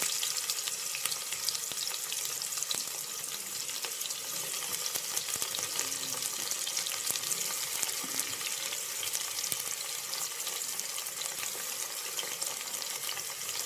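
Two medium chopped onions fry with whole spices such as mace in a pressure cooker for mushroom biryani, giving a steady, even sizzle close by with no talking.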